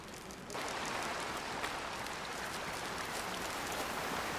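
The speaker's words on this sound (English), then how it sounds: "Oh, hey, water sound effects." Steady rushing, splashing water in the Way of the Hunter hunting game kicks in abruptly and continues as a dense, even wash close by, with no talking.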